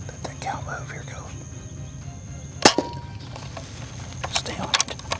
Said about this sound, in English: I'm going to shoot the one at its mom.